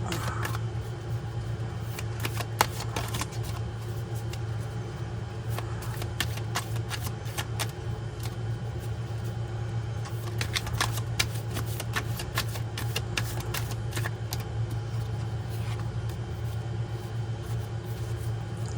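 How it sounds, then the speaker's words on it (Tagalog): Tarot cards are shuffled by hand, giving scattered, repeated soft riffling clicks that cluster in bursts over a low, steady background hum. "Balasahin na lang po natin ulit."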